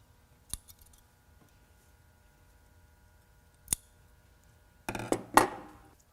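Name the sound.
scissors cutting extra threads off a T-shirt face mask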